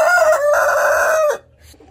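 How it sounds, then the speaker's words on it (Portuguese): A Brahma Light rooster gives one loud, close crow that holds steady for over a second and then cuts off, leaving quiet farmyard background. "Aqui é o galo, Brahma Light."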